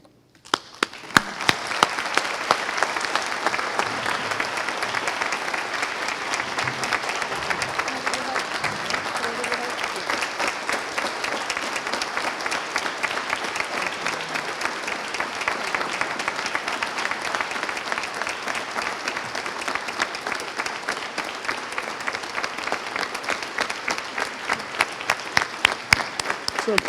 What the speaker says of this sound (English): let's hope you're clapping like that at the end of the night